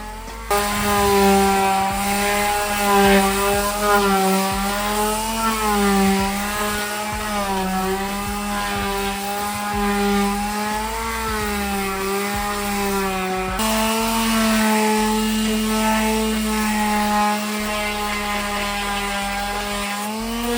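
A power sander works over oak wine barrel furniture, a steady loud motor whine with wavering pitch as it presses and shifts across the wood, continuing throughout with a brief change in tone midway.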